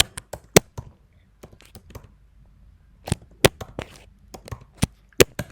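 Typing on a computer keyboard, with the Shift and Enter keys pressed: scattered sharp clicks in irregular bursts with pauses, close and clear with no talking.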